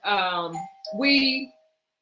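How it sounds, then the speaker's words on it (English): A doorbell rings with two ding-dong chimes in a room where a meeting is being broadcast live, each tone loud and ringing with rich overtones, the second fading out over about half a second. "this is live, so that's the doorbell."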